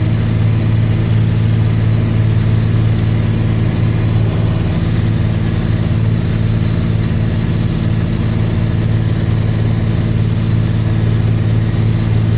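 A vehicle engine drones steadily while driving through a wet hay field after second cutting, a loud constant low rumble with no pauses or talk.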